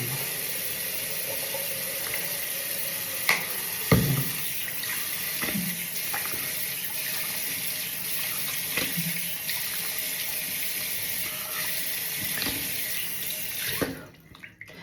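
Dishes being washed under a running kitchen tap, with a steady rush of water punctuated by occasional clunks of dishes, until the tap shuts off near the end.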